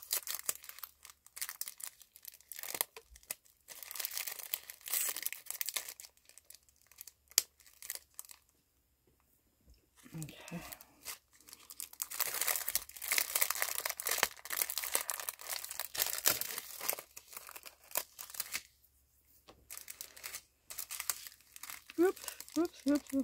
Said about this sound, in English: I'm going to peel these off, otherwise they'll stick to things I don't want them to stick to.